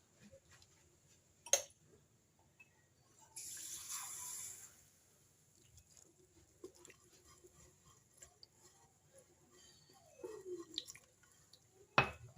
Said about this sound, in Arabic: نحط هادشي نخلط هادشي هنايا، غادي نزيد عليه واحد شويه تاع الماء